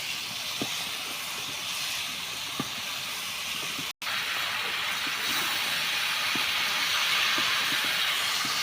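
Taro, eggplant and potato pieces fry in hot spiced oil in a pan, a loud steady sizzle and hiss with scattered pops and a brief break midway, with no talk.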